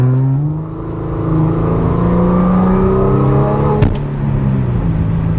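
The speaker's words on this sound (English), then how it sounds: "This car, let's try it out, because I honestly haven't even really driven this thing yet." A supercharged Audi with a 6-cylinder engine making over 500 horsepower accelerates, its engine note rising steadily in pitch, loud and close with a brief sharp knock partway through.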